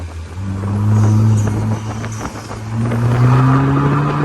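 The engine of a 2022 Vanderhall Venice revs up, dips briefly during a gear shift, then climbs again in third gear, loud and close with a throaty rising drone.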